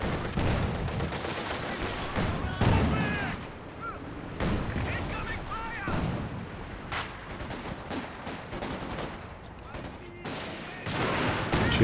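Rocket and gunfire bursts from a Company of Heroes 2 match rattle and boom repeatedly through the stretch, dense overlapping shots with a faint voice underneath.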